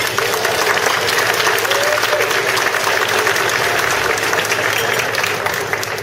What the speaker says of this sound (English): let's give them a round of applause for their efforts